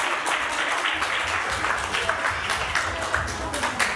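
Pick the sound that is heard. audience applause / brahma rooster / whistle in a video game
audience applause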